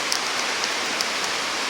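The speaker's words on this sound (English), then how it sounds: "it is raining super hard" Heavy rain pours steadily through the woods at a bushcraft camp during a storm, a dense continuous hiss with scattered close drips and patters striking nearby surfaces.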